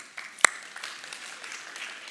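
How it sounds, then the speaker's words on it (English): A congregation at a Christmas Eve church service gives a round of applause for Bella, a young singer, opening with one sharp, bright clap and fading into a thin, scattered patter from the room. "Let's give a round of applause for Bella"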